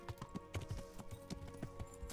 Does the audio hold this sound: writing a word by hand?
no